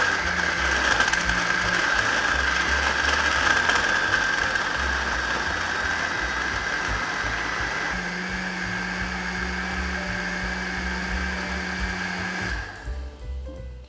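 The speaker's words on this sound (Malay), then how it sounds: "Okey, kita dah selesai mengisar kita punya bahan-bahan kisar." An electric blender grinding spice paste ingredients for Siamese chicken gulai runs in a loud, steady whirring drone for about twelve seconds, then winds down and stops near the end.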